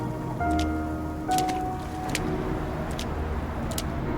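Steady rain hisses across the whole moment in the Love and Deepspace video game, a dense wash of falling drops beneath soft sustained musical tones and a few brief brighter splashes.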